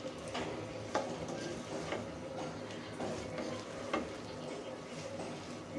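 Spiced chalta (elephant apple) pickle sautés in oil. Faint sizzling sits under soft, regular scrapes of stirring that come roughly once a second, close but quiet.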